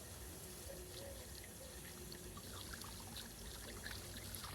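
Muddy water running into a clogged sink: a faint, steady trickle and splash from the tap, continuous and quiet, with no voices.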